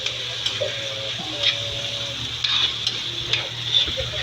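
Onions and tomatoes sauté in a pan under steady stirring, a constant close sizzle with rhythmic spoon scrapes and a faint tonal hum beneath.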